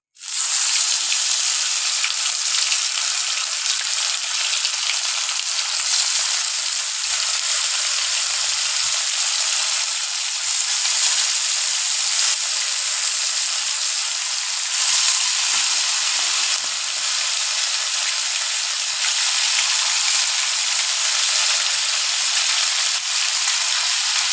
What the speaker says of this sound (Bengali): এই পার্শে মাছগুলো একটা একটা করে একটু ভালো করে ভেজে নেব